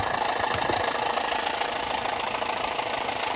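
A model locomotive's sound decoder speaker plays a diesel engine idling for a Bachmann class 205 Thumper, a steady low rumbling drone with a faint knock, continuous and close.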